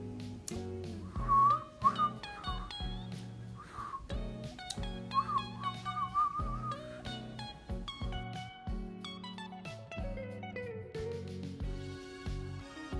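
A person whistles a short wavering melody, clear and fairly close, over a full backing of instrumental music that runs throughout.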